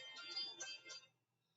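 A mobile phone ringtone plays a short bright electronic melody in an indoor class setting, fairly faint, then cuts off into near silence.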